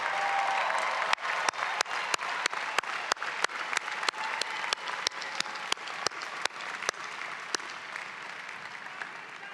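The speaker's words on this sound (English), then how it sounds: "Give them a round of applause" At a spring commencement ceremony, a crowd claps for students' families and friends in a long, sustained round of applause, with a steady run of loud, sharp claps from one nearby clapper cutting through the softer crowd sound.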